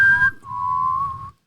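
A person whistles two sustained notes close to the microphone, a short higher tone followed by a longer, slightly wavering lower one, over faint low rumble and no speech.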